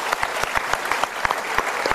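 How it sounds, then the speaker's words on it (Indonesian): A studio audience on a motivational talk show gives a brief burst of applause: dense, loud, close clapping filling the whole moment, with no voices over it. "Kita berikan tepuk tangan."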